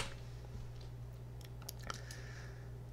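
A computer keyboard gives a handful of faint, sparse keystroke clicks over a low steady hum in a quiet room.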